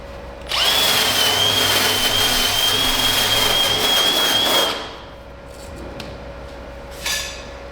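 Angle grinder with a wire wheel scrubbing the firewall metal of a 1967 Camaro, a loud steady high whine for about four seconds before spinning down, followed by faint clatter and a brief second touch.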